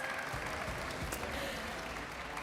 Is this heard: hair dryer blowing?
no